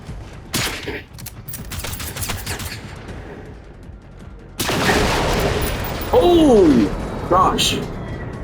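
Gunfire from the video game Generation Zero, rapid bursts of shots and sharp impacts with a loud sustained barrage in the second half, while people talk over the action.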